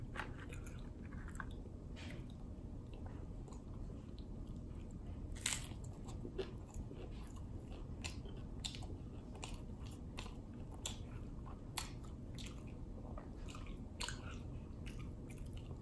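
Someone chews a taco during a 24-taco eating challenge, a quiet close-up series of soft crunches and wet bites with irregular sharp crackles spread across the whole stretch and no talking.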